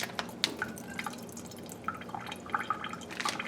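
Water drains from a slit package of firm tofu, an irregular patter of small drips and splashes, faint and close, with no voices.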